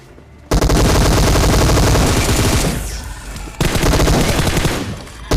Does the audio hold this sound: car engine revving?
no